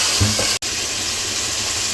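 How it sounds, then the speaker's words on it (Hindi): Ginger-garlic paste and chicken pieces sizzle in frying onions, a steady loud hiss with a brief cut partway through. "और साथ ही हम अपनी चिकन भी डाल देंगे, ताकि हमारी चिकन इसी में भून जाए अच्छे तरीके से"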